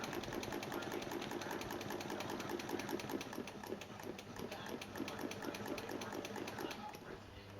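A sewing machine stitches a quarter-inch grid with a ruler foot, its needle chattering in a fast, steady rhythm close by, running continuously without a break.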